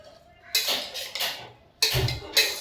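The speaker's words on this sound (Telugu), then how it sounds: "బాగా కలుపుకొని" A spoon stirs and scrapes ingredients together in a metal bowl for a breakfast dish, giving a few close, bright clinking sweeps and a dull knock, with no talk.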